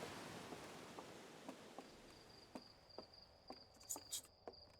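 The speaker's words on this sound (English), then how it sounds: "Yeah, we can hear crickets." Crickets chirping in the video game Outer Wilds, a faint, high, steady trill over soft ambient hiss, joined by scattered light ticks and patters, quiet and distant.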